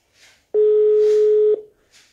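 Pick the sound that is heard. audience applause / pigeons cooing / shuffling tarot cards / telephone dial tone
telephone dial tone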